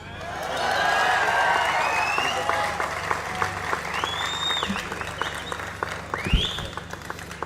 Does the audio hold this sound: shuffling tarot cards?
no